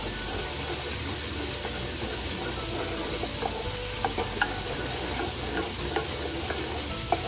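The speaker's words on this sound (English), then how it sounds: "Give it a good stir." A spoon stirs barbecue honey sauce with a few dashes of hot sauce mixed in, a steady soft scraping and sloshing with occasional light clinks against the pot, close and continuous with no talking.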